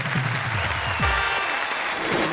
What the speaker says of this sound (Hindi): और हम उन्हें देंगे तालियां।